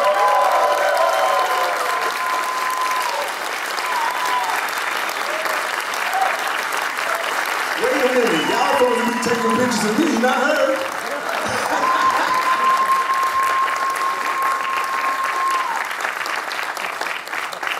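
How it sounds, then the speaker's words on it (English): A concert crowd at a show claps and cheers continuously, with whoops and shouted voices rising over the steady applause in a large live space. "If you don't mind, give a round of applause to her."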